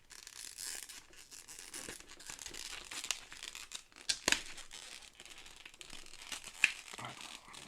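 Plastic wrapping on a Marvel Champions card game hero pack crinkles and tears in quiet, close bursts, with scattered sharper rips.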